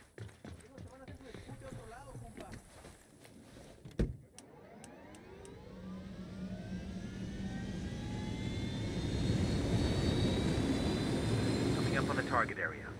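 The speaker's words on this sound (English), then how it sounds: "Drone is airborne." Drone taking off in the video game Ghost Recon Wildlands, a rising whirring whine that builds steadily and grows louder after a few clicks and a sharp thump.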